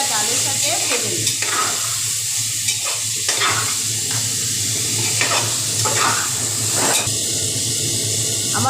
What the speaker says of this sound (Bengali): এবার ভালো করে মশলাগুলো সবজি আর ডালের সাথে ভেজে নিই।